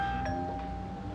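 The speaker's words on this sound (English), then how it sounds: "she heard the doorbell ring" A doorbell at a house on a weekday morning rings once, a clear sustained tone sounding over a steady low background hum, with no one talking.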